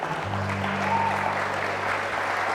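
Steady congregation applause fills a church service, a dense wash of clapping from many hands with a sustained low organ or keyboard tone underneath.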